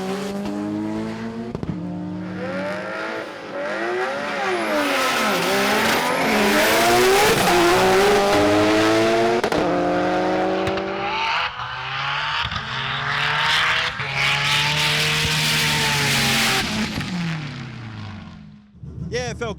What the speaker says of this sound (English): In the drag battle, Nitto 2 gave us the first 170 mile an hour pass in GTR Challenge history.